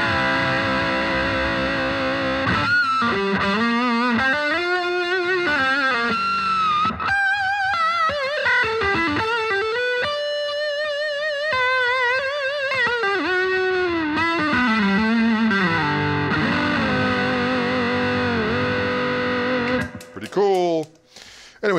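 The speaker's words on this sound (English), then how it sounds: "So I put the gain on with the amp." Music Man John Petrucci Majesty electric guitar played through an amp with gain on, regular pickup and preamp: a sustained, distorted lead with bending, sliding melodic lines and vibrato, loud and continuous, ending in a few brief noisy bursts.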